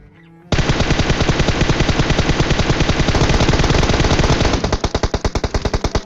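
Sustained automatic gunfire from a shooting video game, a dense loud rapid burst lasting several seconds that breaks into slower distinct shots near the end, with no talking.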